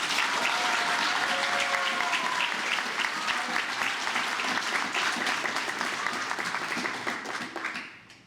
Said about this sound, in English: So can we please give a round of applause for Bob Livingston?